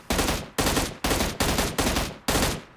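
Automatic rifle firing in PUBG Mobile, with six loud, evenly spaced bursts of gunfire, each hitting sharply and trailing off, close and alone without speech.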